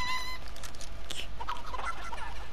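Chickens cluck faintly in the video game Fortnite, with brief fowl calls over a steady hum of game background noise.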